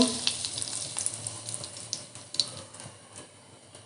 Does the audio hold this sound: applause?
no